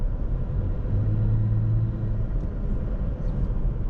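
A 2017 Toyota Tacoma TRD Off-Road with a 4.0 V6 gives a steady, low exhaust rumble under smooth acceleration, heard from inside the cab with a faint rising drone and no talking.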